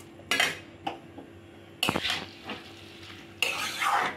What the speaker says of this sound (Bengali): ভালো করে এটাকে মিশিয়ে নেব মশলার সাথে।